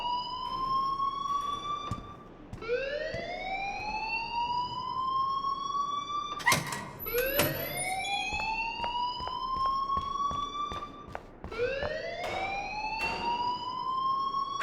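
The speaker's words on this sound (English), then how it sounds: "please turn off that alarm since that's your job" A school alarm rings in the Life Is Strange video game, a loud, repeating rising electronic whoop that cycles steadily and continuously, alone with no talking.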